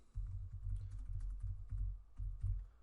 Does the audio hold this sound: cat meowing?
no